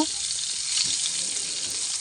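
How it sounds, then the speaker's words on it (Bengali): Dried fish rubbed with turmeric and salt fries in oil, giving a steady, dense hiss throughout, close and even, with no voices. "শুটকি মাছগুলোকে প্রথমে হলুদ লবণ মাখিয়ে ভেজে নিচ্ছি আমি এটা তেলের মধ্যে।"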